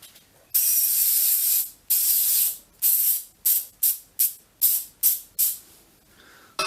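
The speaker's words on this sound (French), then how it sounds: "de colle en bombe sur le châssis" Aerosol can of spray adhesive misting glue onto a carbon chassis: one long hiss, then a run of shorter, quicker bursts with brief gaps, close and loud.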